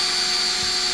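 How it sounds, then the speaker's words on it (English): A power drill fitted with a 1/8-inch bit bores through a vehicle console during a Tuffy console safe install, giving a steady, loud high-pitched whine that runs unbroken for the whole second with no talk over it. "Got my 1/8 drill bit already."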